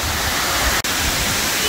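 Steady, loud rushing of a waterfall at Chimney Rock State Park, North Carolina, heard up close as a dense continuous wash with a momentary dropout near the middle.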